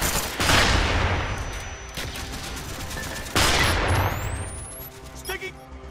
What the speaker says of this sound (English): Mortar coordinates received, fire for effect.